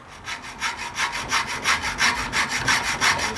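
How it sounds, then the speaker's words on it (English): A hacksaw cuts through the metal casing of a car AC receiver drier in brisk, even back-and-forth strokes, close up and loud with no talking. "So I'm just gonna get my hacksaw here"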